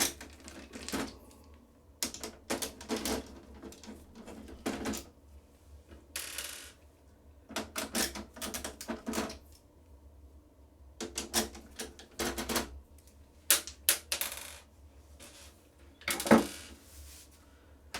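Screws being removed from the automatic document feeder of a Pantum 7105DW printer, heard as repeated bursts of clicking, ratcheting screwdriver turns and small metallic handling noises, close and fairly quiet, with pauses between each screw.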